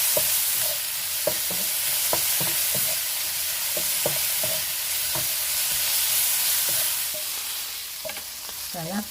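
Shredded beef sizzling as it is stir-fried with seasoning in a pan, a steady hiss of frying broken by frequent light clicks and scrapes of stirring, close and continuous with no talk.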